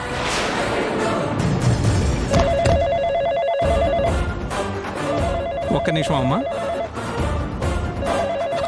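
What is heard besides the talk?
telephone ringing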